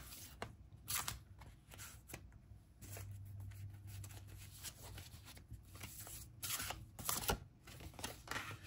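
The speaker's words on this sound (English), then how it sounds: "I'm going to be drawing some cards from the Ancestral Path Tarot." Ancestral Path Tarot cards being shuffled and drawn, soft papery riffles and slides coming in repeated bursts, close and fairly quiet with no talking.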